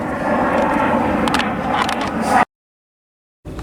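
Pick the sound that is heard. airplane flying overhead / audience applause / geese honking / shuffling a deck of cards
airplane flying overhead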